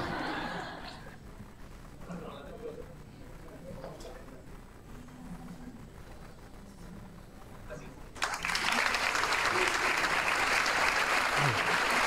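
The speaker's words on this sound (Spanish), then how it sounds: "Que no decaigan los aplausos, vamos." An audience applauds at a graduation ceremony. Faint talk and murmuring over a quiet room come first, then broad, loud clapping breaks out and continues steadily to the end.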